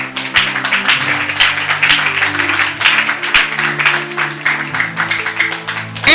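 Church congregation applauding and cheering at a French-language Bible teaching, steady dense clapping throughout with sustained crowd voices and tones underneath, loud and close.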